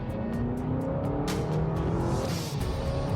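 A 2025 Honda Accord Sport L hybrid accelerates at about half throttle in eco mode, giving a steady, loud road and drivetrain roar with a faint rising engine tone throughout, no talking.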